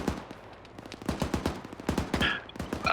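Rapid, dense bursts of heavy gunfire from artillery guns in the military shooter ArmA 3 ring out loud and close, with no talking over them.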